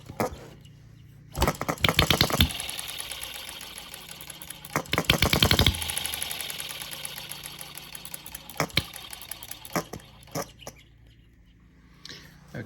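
A StirlingKit B02 hit-and-miss model engine runs in two loud bursts of rapid, even mechanical ticking, then drops back to sparse isolated clicks and a quieter background; no voices are heard.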